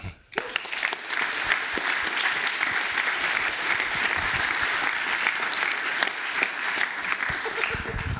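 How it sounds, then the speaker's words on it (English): Attendees at a network operators' conference give sustained applause: after a brief quiet start, a thick, even roar of clapping rises quickly and continues unbroken to the end, with faint voices buried underneath. "And last but not least, also another last applause for Anita."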